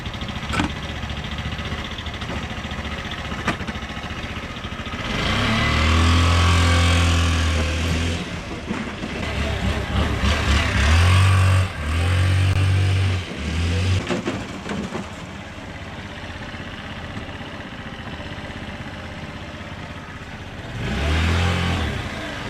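A Honda Elite 80 scooter engine idles, then revs in several strong bursts with rising and falling pitch, returning to a quieter idle between revs and once more near the end.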